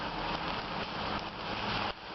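Steady rain falls on a city street in Lviv, a dense, continuous hiss of drops hitting pavement and surfaces, close and even throughout with no talking.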